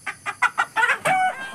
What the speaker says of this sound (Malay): Kalau Pak Long nak lepas-lepas ayam ni